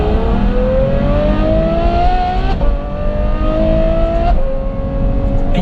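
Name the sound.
Novitec N-Largo Ferrari F12 exhaust revving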